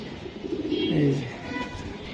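Racing pigeons give a soft, low coo that swells briefly in the middle, close by and under light background noise.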